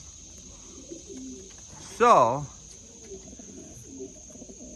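A single loud pigeon coo rises and falls close by for about half a second, standing out above a steady high-pitched hum and a few quiet scattered bird sounds and rustles.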